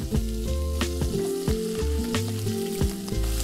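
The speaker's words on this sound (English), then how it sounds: "Give it a nice stir." Chopped vegetables and green peas fry loudly in a pan while being stirred, with a constant near sizzle broken by frequent scraping strokes, and no one speaking.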